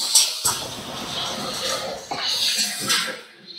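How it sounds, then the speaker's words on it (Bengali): Mixed vegetables seasoned with turmeric and salt sizzle steadily in a hot pan, a continuous close hiss with soft scraping bumps throughout and no voices. "পাঁচ মিনিটের মতো এটা একটু ভাজা ভাজা করে নিতে হবে"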